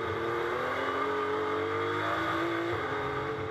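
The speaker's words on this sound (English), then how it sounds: "Drops it down a gear into turn eight now." GT race car at the Algarve circuit in the British GT Championship, downshifting and accelerating out of a turn, a loud, sustained engine roar whose pitch rises steadily and then drops briefly near the end as it shifts, with no talking.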